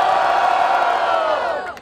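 A crowd roars and cheers in one sustained burst at a semifinal of a street rap battle in Barueri, São Paulo, loud and dense before fading at the end.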